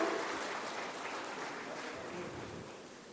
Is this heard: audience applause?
yes